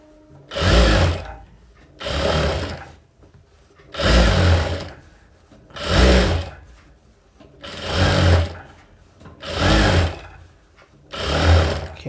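A sewing machine stitches princess-cut blouse pieces together in seven loud, close bursts of fast whirring, each lasting about a second, separated by short quiet pauses.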